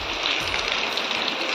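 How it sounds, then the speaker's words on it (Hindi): Heavy rain pours steadily in a hillside village, a dense continuous hiss of water striking surfaces close by, with no voices. "इतनी भयंकर बारिश होने लग गई है"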